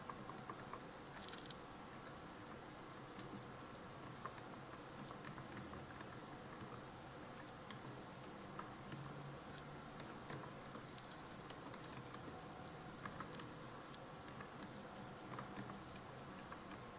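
Typing on a computer keyboard while entering text in a design program: a long run of quiet, irregular key clicks and taps, close and steady over faint room noise, with no one talking.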